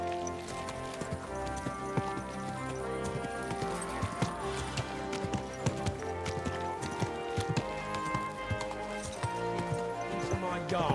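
Horse hooves in the video game Kingdom Come: Deliverance 2 clip-clop in a steady rhythm close by, mixed with background music and a voice speaking over them.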